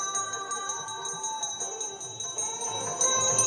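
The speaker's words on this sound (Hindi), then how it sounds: "घंटी का ध्वनि है" Steady metallic ringing of temple bells during aarti at Diwali in Ayodhya, with sustained high tones and a devotional aarti song, continuous and fairly loud throughout.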